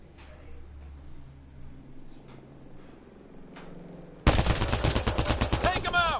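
Gunfire in the Mass Effect Andromeda video game: after a quiet stretch of low rumble, a loud burst of rapid repeated shots erupts and keeps going to the end.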